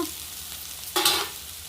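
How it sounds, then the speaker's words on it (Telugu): Ivy gourd pieces sizzle steadily in a pan, then a quick loud scrape and stir flares up for a moment before settling back to the frying hiss. "దొండకాయ ముక్కలని మంచిగా ఫ్రై చేసుకున్నాను"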